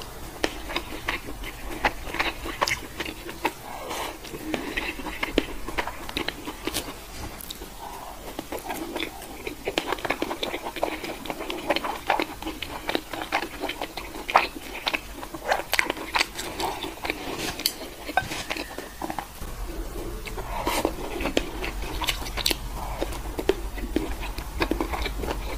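Close, wet chewing and biting of rice doused in red braised pork sauce, a steady run of soft crunchy mouth sounds repeating throughout without talk.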